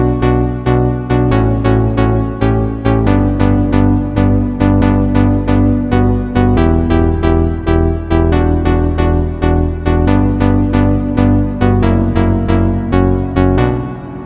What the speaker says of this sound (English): I used a plucked preset on a Spire synthesizer here